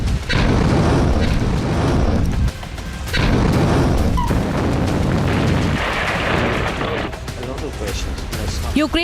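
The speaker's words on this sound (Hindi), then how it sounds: "यूक्रेन पर हो रही है बमबारी।" Bombing explosions in the Ukraine war come as heavy, loud rumbling booms in long sustained bursts, with a short lull between blasts and continuous dense roar.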